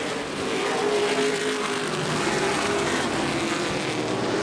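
A pack of CRA Super Series race cars roars off at the green flag at Anderson Speedway, a dense, continuous engine drone building loud and sustained, with no talk over it.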